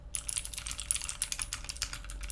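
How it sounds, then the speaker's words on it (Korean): Rapid, continuous typing on a Lunepoker U60 UNO custom mechanical keyboard with clicky switches, close-up, a dense chatter of crisp, high-pitched clicks with no talking. "제가 정말 좋아하는 클릭키 소리입니다."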